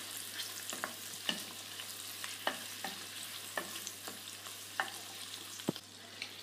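Butter melting in a pan over lowered heat while croquette dough is started, with a soft steady sizzle and light scrapes or taps of a utensil at irregular intervals, with no voices.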